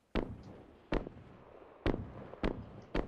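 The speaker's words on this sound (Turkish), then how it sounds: "Bomba salladı." Grenade blasts in the battle-royale game PUBG Lite: five sharp, loud explosive bursts with short decaying tails, spaced unevenly about a second apart, with no talk over them.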